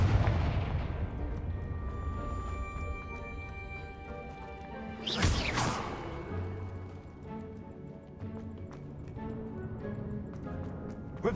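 Blasting spell explosions in the Hogwarts Legacy video game: a sharp, loud burst in the middle over a droning game soundscape, followed by fainter impacts, with no talking.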